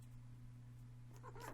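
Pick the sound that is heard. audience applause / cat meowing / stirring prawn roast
cat meowing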